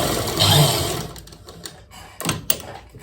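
A sewing machine stitches a loose basting seam through garment lining, a close whirring run followed by a few sharp clicks and thumps as the fabric is handled.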